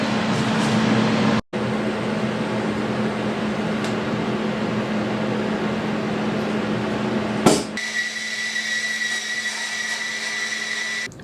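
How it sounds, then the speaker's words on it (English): TIG welding at 100 amps: a steady loud electric hum and hiss with a brief break early on, then a sharp change in tone as the arc shifts, continuing as a buzzing drone. "Haven't TIG welded anything in maybe 10 years"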